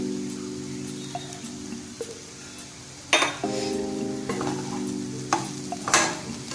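Masala egg podimas is stirred in a pan, with a spatula scraping and clinking against the metal in irregular strokes over a constant sizzle. A loud clatter lands midway, and a steady background hum runs throughout with no talking.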